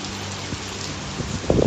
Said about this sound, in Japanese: 雨じゃじゃですわ。